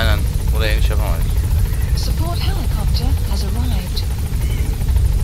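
Helicopter in the Metal Gear Solid V video game, a steady loud rotor chop and engine drone filling the background while several people talk over it.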